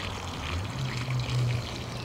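Water poured from a can onto newly planted onion and tomato beds in a garden plot, a steady close splashing trickle lasting the whole moment with no talking.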